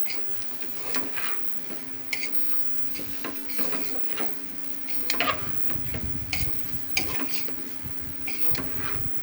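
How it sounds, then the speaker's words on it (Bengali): Rice for pulao fries in a pressure cooker, with a low sizzle under frequent spoon scrapes and taps against the metal pot, close by and without voices. "চাউলটা ভেজে নিচ্ছি"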